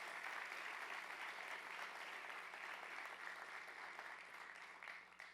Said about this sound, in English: let's give her a round of applause in absence